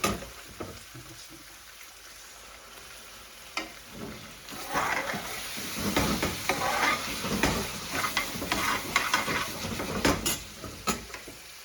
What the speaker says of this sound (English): let's get our base gravy in there